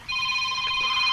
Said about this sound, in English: then the phone started ringing